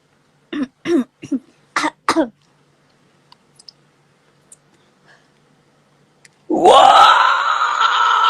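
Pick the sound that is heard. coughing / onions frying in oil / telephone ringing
coughing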